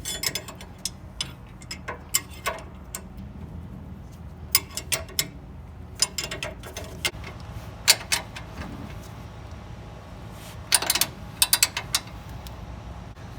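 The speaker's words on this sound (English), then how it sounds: "Let's go ahead and tighten everything down now." Ratchet tightening sway bar end link nuts on a 2004-or-later Nissan Titan, heard as irregular bursts of quick mechanical clicks spread across a low background hum, close and moderately loud, with no talking.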